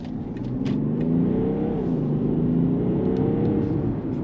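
A BMW 330d Touring estate with its 3-litre six-cylinder diesel accelerates hard, a deep, rising engine drone with rumble and whir building steadily, close and sustained without talk.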